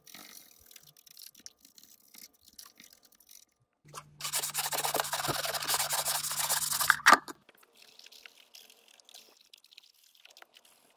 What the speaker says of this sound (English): This is a sanding sponge, knocking down all the high parts.